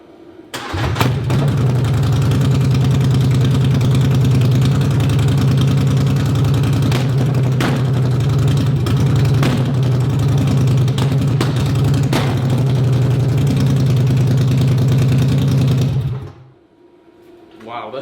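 A 2018 Polaris Sportsman 1000 XP ATV engine with the exhaust removed idles loud and close, a harsh steady rumble lasting about sixteen seconds before cutting off abruptly.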